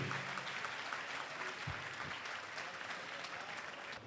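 Congregation at a Holy Mass during a national annual pilgrimage applauding, a steady, dense wash of many hands clapping at once, moderately distant and sustained throughout without pause.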